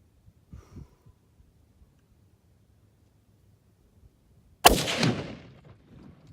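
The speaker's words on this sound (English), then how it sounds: "That one went in the exact same spot as my second shot" A single sharp, loud rifle shot from a Howa 1500 in .300 Win Mag, a sudden blast with a decaying rumble after quiet handling noises and faint breathing.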